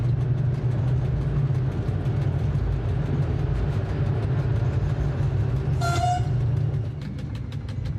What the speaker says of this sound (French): Rachid a freiné pour aborder la petite gare de Msada, perdue dans la plaine.